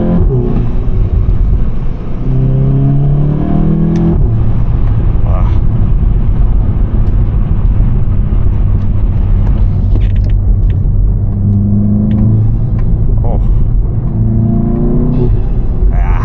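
A VW Golf 7.5 GTI engine rumbles steadily while accelerating at night, with a throaty air intake whoosh rising and falling through the gears, close and loud throughout.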